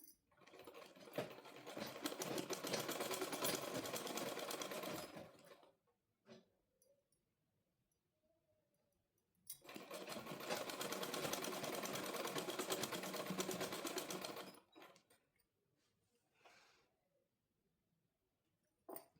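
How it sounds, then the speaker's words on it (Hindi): A sewing machine stitches palazzo pants in two loud, steady runs of about five seconds each, with quiet pauses and small handling clicks between them. "अभी हम यहाँ से शुरू करते हैं सिलाई लगाना"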